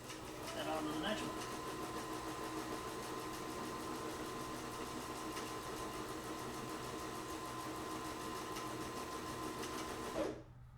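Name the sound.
sewing machine flat stitching a soft-sided briefcase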